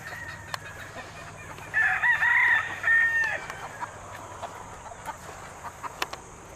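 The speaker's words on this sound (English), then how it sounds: "And that's just one of my butcher hens." On a farm, a rooster crows loudly close by, and butcher hens cluck softly in quiet pecking sounds before and after.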